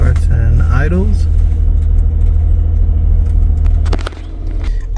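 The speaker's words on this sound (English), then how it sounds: "Starts and idles." A 2009 Nissan Maxima engine cranks briefly and settles into a steady, loud low rumble at idle, droning evenly throughout with a slight dip near the end.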